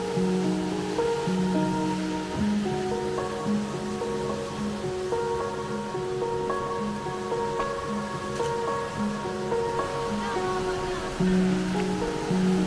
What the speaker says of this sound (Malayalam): ഇതാണ് അവര് പറഞ്ഞ വെള്ളച്ചാട്ടം അല്ലേ.